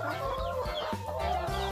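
Laying hens on a farm cluck and squawk in a busy, close chorus of short overlapping calls, with no voices.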